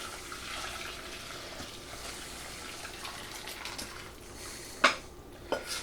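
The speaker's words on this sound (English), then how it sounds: "get a medium-sized strainer and another pan. Put that right there and pour." Garlic soup pours and splashes steadily through a medium-sized strainer into another pan, ending with a couple of sharp metallic clinks.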